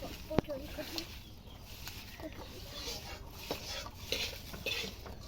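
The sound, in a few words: mixing cut taro stems with spices in a bowl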